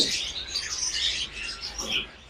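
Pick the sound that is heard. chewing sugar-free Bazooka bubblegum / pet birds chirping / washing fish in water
pet birds chirping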